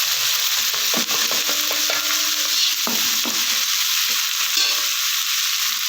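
Cabbage frying in ghee in a large kadai, a loud steady sizzle with scattered scraping and clanking strokes from stirring, continuous throughout and free of voices.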